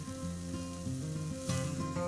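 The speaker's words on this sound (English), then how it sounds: "Now there's a sizzle." Food sizzles in a hot pan during outdoor cooking in Oban, Scotland, a steady frying hiss alone at close range that swells briefly near the end.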